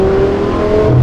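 An Audi R8 with a V10 engine hums and whirs through its small exhaust in a short, steady run, the engine tone holding fairly constant near the listener.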